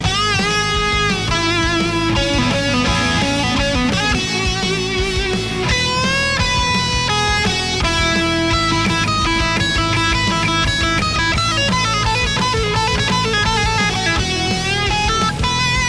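Manson M Series electric guitar, custom modded with a built-in fuzz, playing a sustained, melodic line with bright overtones and steady backing tones, loud and continuous without pauses.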